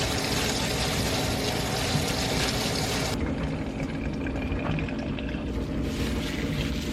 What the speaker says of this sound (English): Water from the sink that's as hot as it can go. And I'm gonna actually fill it right up to the top.